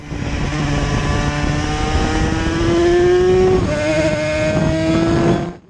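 A Yamaha TZ350 two-stroke racing motorcycle on the Donington circuit, its engine screaming loud and close as it revs up through rising gear pitches with a shift midway, then cuts off sharply at the end.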